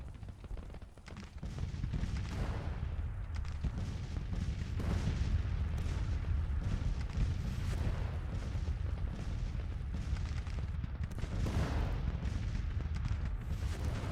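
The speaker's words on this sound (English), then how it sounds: "But they're now finally firing back." Civil War artillery in the Grand Tactician strategy game fires continuously, a dense rolling barrage of deep booms and cracks that stays loud and unbroken after a brief quieter opening, with no speech.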